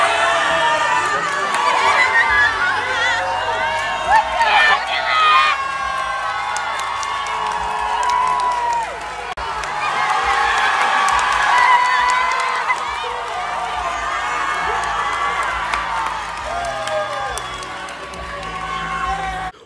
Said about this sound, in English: people started chanting my name before worship.